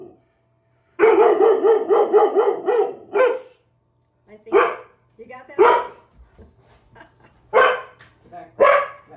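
A dog barks close by in bursts, one rapid string of barks followed by scattered single barks and yips, with a person speaking briefly between them.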